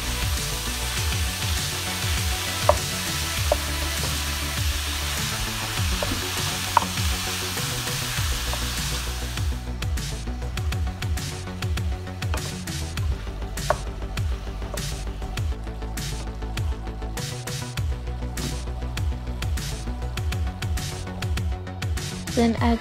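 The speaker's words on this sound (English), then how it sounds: "Then add 1 pound of ground beef and cook for 5 minutes." A pound of ground beef fries in a pan for lasagna, giving a steady close hiss with occasional stirring clatter; a busier crackling sizzle takes over partway through, all under light background music.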